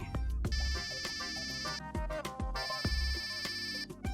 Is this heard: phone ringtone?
yes